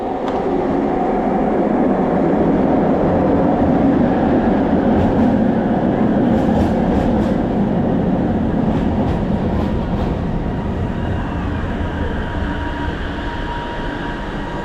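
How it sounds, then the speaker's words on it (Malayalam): A metro train pulls into a station platform in Kuala Lumpur with a loud, continuous rumble and roar of wheels and motors close by, with faint squeals and clicks along the way. "അപ്പോൾ ട്രെയിൻ വന്നുകൊണ്ടിരിക്കുകയാണ്."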